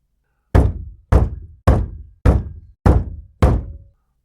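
Six loud, evenly spaced knocks hit a front door, each a sharp thud with a short ringing decay, alone and close, with no voices.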